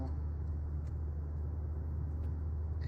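Car on a motorway during a driving lesson, a low steady engine and road rumble with a faint higher whine, continuous and moderately quiet inside the cabin.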